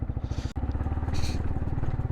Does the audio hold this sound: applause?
no